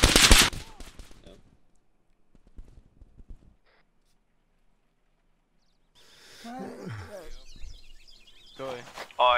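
Automatic machine-gun fire in Arma 3, a Vietnam-era mission, sounding as loud bursts at the start and again near the end, with a talking voice and scattered battle noise in between and quieter gaps.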